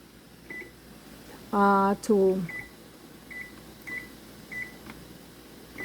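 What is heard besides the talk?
kitchen timer beeping while being set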